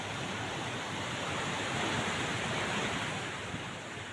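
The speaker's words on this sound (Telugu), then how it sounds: "పిల్లిగడ్డ వంతెనపై నుంచి భారీగా వరద నీరు ప్రవహిస్తోంది." Heavy floodwater rushes over Pilligadda bridge in Alluri district after heavy rains, a loud, continuous broadband roar of torrential flow with no breaks.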